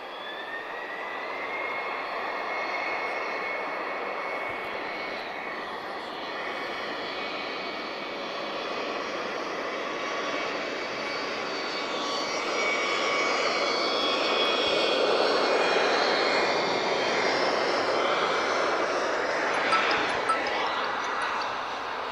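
A TAP Retrojet airliner taxiing at Lisbon Airport, its jet engines giving a steady distant whine and rumble that swells gradually louder toward the end, with no talking.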